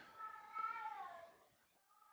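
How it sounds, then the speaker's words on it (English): A house cat lets out a drawn-out, wavering meow close by, then a shorter faint mew follows after a brief pause in a quiet room. "Oh, there goes my cat."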